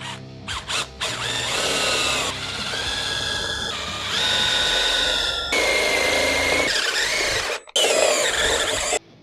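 A power drill boring out a 3/8 nail in the cab of a 2010 GMC Sierra or Chevy Silverado truck: loud, close whining bursts that rise and squeal, with brief pauses between runs and no talking.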